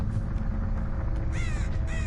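Crows caw in the Dead by Daylight horror game, two distinct harsh calls sounding in the latter half over a steady low rumbling ambience, with no talk.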